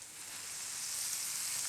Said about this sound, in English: people love the sizzle